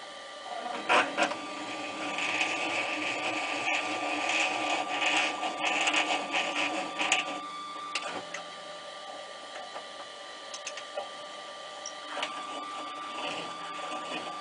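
Clarke CL300M lathe drilling out an existing 7mm hole to 9mm, a steady motor whine with grinding, scraping cutting noise and intermittent clunks, close and continuous without talk.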